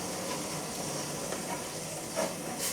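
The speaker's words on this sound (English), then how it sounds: "Okay, the water for the alum is pretty much boiling." Water heating to a near boil for dissolving alum in a printmaking studio gives a steady soft hiss and gentle bubbling rumble, constant and fairly quiet with no voices.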